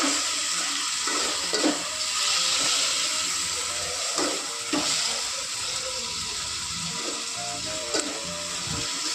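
Onion and tomato frying in a pan for chicken gravy, giving a steady close sizzle and hiss throughout with a few soft clinks.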